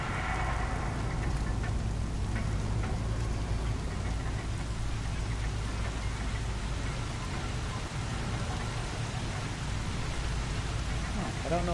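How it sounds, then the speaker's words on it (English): Steady rain falling in the open world of Horizon Zero Dawn, a continuous broadband hiss of drops that holds evenly for the whole stretch over a low rumble, with game sounds and faint voices underneath. "Oh, now it's raining."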